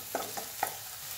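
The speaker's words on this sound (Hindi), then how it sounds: "मसाला अच्छे से भून जाना चाहिए।" A spoon stirs masala spices with turmeric powder as they roast in a hot pan, giving three quick scraping strokes over a soft, steady sizzle.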